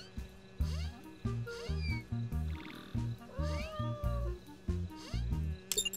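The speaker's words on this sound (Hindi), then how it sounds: "इसे देखो, ये जंगली बिल्ली है" Repeated meowing calls from a wild cat in a steady rhythm, roughly a dozen in quick succession, close and clear, with a sharp rattling burst at the end.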